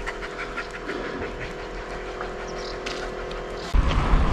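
A tired dog pants rapidly and steadily up close during a mountain bike trip in the Carpathians between Pylypets and Bukovel, under a constant mechanical hum, with a sudden louder noise near the end.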